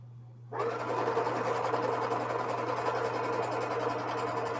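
A sewing machine stitching fabric pieces together starts abruptly after a short quiet moment, then runs as a steady, close mechanical whir with a fast rhythmic stitching chatter throughout.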